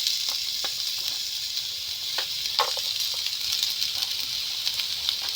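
Onions frying in a pan for a simple chicken macaroni, a steady close sizzle with small crackles and pops scattered throughout.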